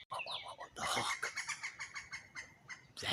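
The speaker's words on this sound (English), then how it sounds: "That noise is the woodpecker." A woodpecker calls from a tree where hawks are also present, giving a rapid, evenly spaced series of sharp, loud notes close by with no talking.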